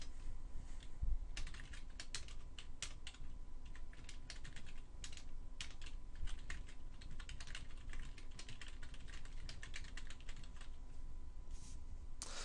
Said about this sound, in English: I'm going to type my content here.